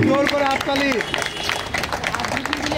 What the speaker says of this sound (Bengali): একটু জোরে হাততালি দেবেন। হাততালি কামনা করছি, জোরে হাততালি।